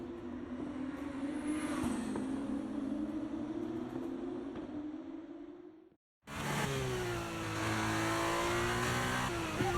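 Formula 1 car engine in the F1 23 racing game: a loud, sustained high-pitched whine that holds steady, drops out briefly, then returns with rising and falling revs.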